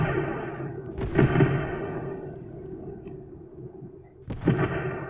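Off-map artillery guns firing rounds in Graviteam Tactics: two loud booming reports about three seconds apart, each followed by a long rumbling decay, with a steady low battle ambience between shots.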